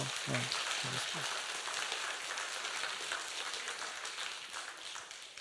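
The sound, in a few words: congregation applauding a missionary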